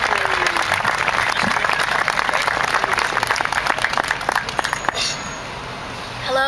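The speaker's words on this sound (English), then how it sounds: "let's get a big round of applause for Crystal Moon" Audience at a July 4th patriotic event breaks into sustained, loud applause, dense clapping filling the room steadily before tapering near the end, with some crowd murmur mixed in.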